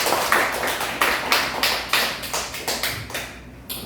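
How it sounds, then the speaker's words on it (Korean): A church congregation claps together in a steady rhythm, about a dozen sharp, even claps in quick succession at moderate volume, with no talking over them. "박수 한번 칩시다. 하나님께."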